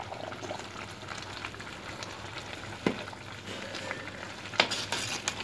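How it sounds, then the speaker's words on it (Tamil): A pot of chicken biryani rice bubbles and sizzles while a spoon is worked through it gently, a soft simmering bed broken by a few sharp scraping knocks against the pot. "நம்ம இப்போ வந்து கிளறி விட்டுட்டு, இப்போ வந்து ரைஸ் வந்து முக்கால் பங்கு வெந்ததுனால நம்ம வந்து லைட்டாக கிளறி விடணும்."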